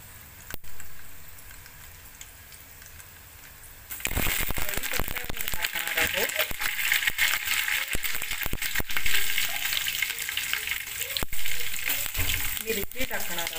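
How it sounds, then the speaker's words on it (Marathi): Chillies and garlic sizzle and crackle loudly in hot oil after mustard seeds for murmura chivda, a steady frying hiss with occasional stirring clatter, starting after a quieter lead-in. "मिरची टाकणार आहोत, लसूण टाकणार आहोत। आता हे आपण चांगलं परतवणार आहोत।"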